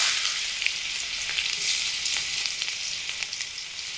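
Cumin, garlic paste, onion and green chilli fry in hot oil, giving a steady, close sizzle with crackling pops and a few scraping stirs.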